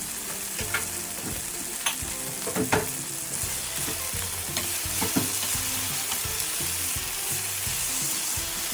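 Potatoes and vegetables with celery and tomato paste sizzle and fry steadily in a pan, with repeated scraping stirs of a utensil close by and no talking.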